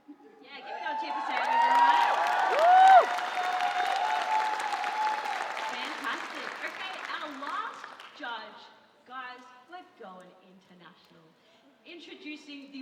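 Audience at the PAX Aus cosplay stage in Melbourne, loud applause and cheering that swells, holds for several seconds, then thins to scattered claps and whoops, with a presenter talking over the tail end.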